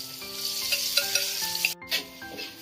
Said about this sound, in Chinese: 下入我们的猪肝